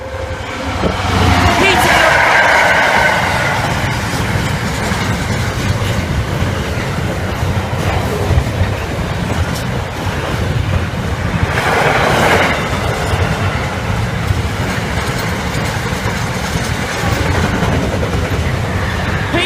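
Train passing Stow Park level crossing, a continuous rumble of rail wagons with clickety-clack and swells of wheel noise, loud and close, with talk over it at times.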